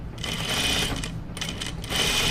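A sewing machine runs close up, edge stitching a seam allowance on a dress in two steady bursts with a brief pause between them, its needle mechanism whirring and clattering. No one speaks.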